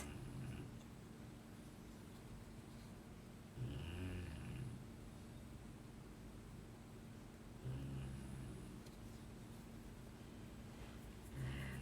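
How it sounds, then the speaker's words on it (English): A pet dog snores in its sleep indoors, with slow, rhythmic breaths that swell every few seconds over a low steady background hum, close and fairly soft. "it's quite relaxing just listening to him snoring away"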